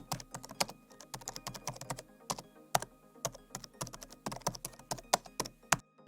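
Typing on a computer keyboard, a steady run of crisp, close key clicks with short pauses, alone with no voices.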